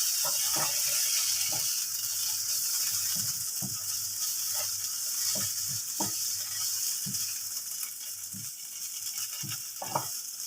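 Sausages sizzle steadily in a hot pan while a utensil scrapes and stirs now and then, close and continuous, without speech.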